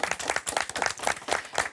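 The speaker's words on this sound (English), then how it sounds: "Give them a big applause." An audience at an innovation event applauds the presenters, a short burst of dense clapping heard at moderate distance.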